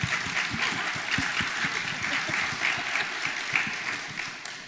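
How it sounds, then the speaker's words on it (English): An audience claps for a panel at an accessibility-for-people-with-disabilities event, with moderately loud, steady applause and some distinct individual claps near the front. "A huge round of applause to our panel,"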